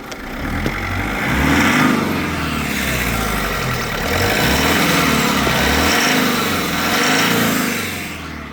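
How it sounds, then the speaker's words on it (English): Mitsubishi Shogun engine revved from inside the vehicle, loud and close, rising in repeated blips with a steady idle rumble between them and no talking. "I'm just going to go ahead and give it a rev first from the inside of the vehicle."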